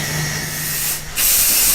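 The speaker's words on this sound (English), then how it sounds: "the bogies given a spray of black paint" A loud, steady aerosol spray of black paint hisses in two bursts onto the bogies of a one-foot gauge model railway vehicle, separated by a brief pause, close and continuous.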